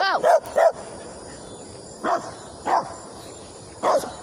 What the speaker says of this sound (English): I did not want that dog to bite me.